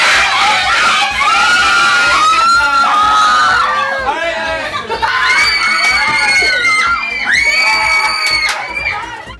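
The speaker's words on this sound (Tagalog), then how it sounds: "hiyawan ng fans sa tuwing makikita nila ang kanilang idolong si James" Fans scream and cheer for James Reid at a crowded public appearance, a loud sustained wave of high-pitched shrieks and whoops that swells, dips and surges again.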